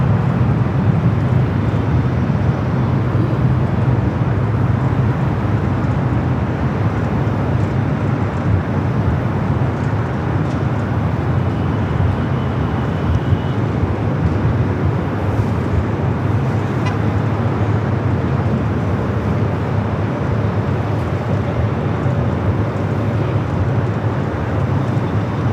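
A jet airliner departing LAX on a flight to Detroit produces a steady, loud broadband roar that holds evenly throughout, with no voices.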